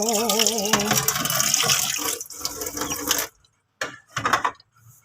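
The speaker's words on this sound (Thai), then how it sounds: "ล้างด้านนอกด้านในขอบด้วยเช่นกันค่ะ" Running tap water splashes in a sink as tube-feeding equipment is rinsed inside, outside and around the rim, a steady broadband rush that cuts off abruptly, followed by a few short bursts of flow and splashing.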